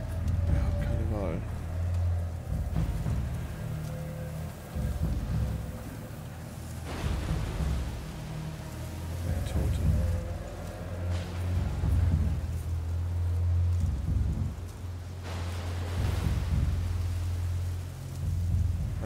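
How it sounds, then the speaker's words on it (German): Thunderstorm with rain in the video game A Plague Tale: Requiem: steady rain hiss with low rumbling thunder rolling in swells throughout, mixed with a low droning game ambience. "Sturm zieht auf."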